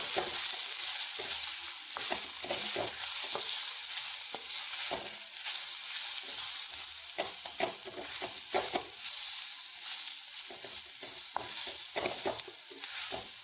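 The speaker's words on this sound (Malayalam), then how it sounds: "ഉപ്പ് പാകത്തിന് പിന്നെ മുളക് പൊടി അര സ്പൂൺ ഇതെല്ലാം കൂടെ ഒന്ന് ഇളക്കി കൊടുക്കാം" Bitter gourd with salt and chilli powder sizzles in a hot pan while a utensil stirs and scrapes it, giving steady frying hiss and irregular close clinks and scrapes.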